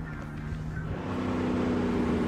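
Steady engine drone of a car driving in a Skibidi Toilet animation, a continuous low hum that grows slightly louder partway through, with no talk over it.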